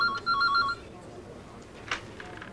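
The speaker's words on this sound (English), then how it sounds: "More information comes by phone while he's working." A telephone rings with a short electronic double trill in a 1980s British newsroom-style office, followed by quieter room sounds and a faint click.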